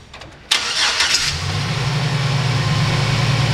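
A 2007 Chevy Silverado 4x4 pickup with a 4.3 engine cranks and catches after a brief whir, then settles into a steady, low idle that continues close by.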